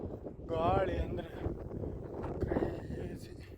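Strong wind at the hilltop Gudibande fort near a temple buffets the microphone with low, gusty rumble, while someone speaks over it.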